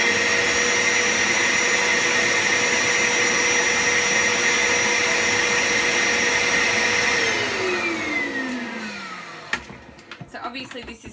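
A Bissell Little Green Machine carpet cleaner runs steadily as its hose is flushed, a loud, close motor whine that holds level, then spins down with a falling pitch before handling clatter follows.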